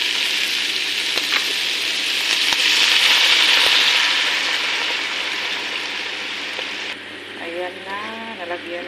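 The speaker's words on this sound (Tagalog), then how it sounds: "Nalagyan na natin ng soy sauce." Soy sauce hits bihon noodles frying with chicken liver, giving a loud, steady broadband sizzle that swells mid-clip and then eases, with a few clinks of a utensil near the end.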